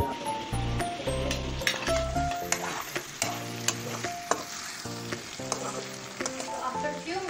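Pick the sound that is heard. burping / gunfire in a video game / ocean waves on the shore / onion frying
onion frying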